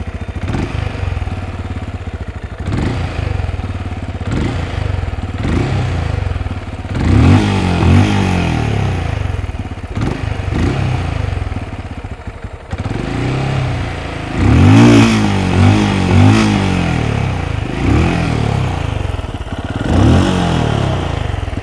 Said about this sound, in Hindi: तो चलिए हम लोग एक बार ज़रा देख लेते हैं कि इसका एग्जॉस्ट नोट कैसा है।